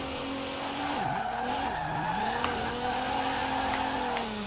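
A stanced Infiniti Q50 in Forza Horizon 4 runs at speed, its engine droning loud and steady with pitch dips at gear shifts and tires squealing and skidding, no talk.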